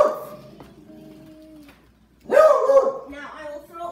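A dog whimpers softly at first, then gives a louder burst of barking or yelping near the end, close to the microphone, with little else in the background.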